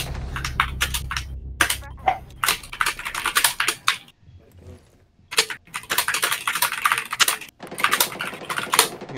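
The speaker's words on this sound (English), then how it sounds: "Mechanical keyboard intensifies." Rapid clacky keystrokes on a mechanical keyboard come in dense bursts, pausing briefly midway before the typing resumes just as busily.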